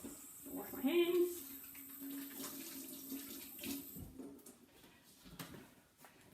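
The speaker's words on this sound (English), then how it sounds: "All right, wash my hands." Running tap water splashes into a kitchen sink as hands are washed, a soft continuous stream with a brief louder gush near the start, fairly quiet and close, with a faint voice in the background.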